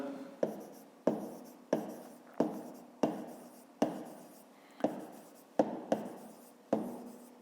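A pen writes by hand in a notebook during a fifth-grade maths exercise, a quiet repeated scratching in about ten short strokes, each starting with a soft tap and trailing off, close and without speech.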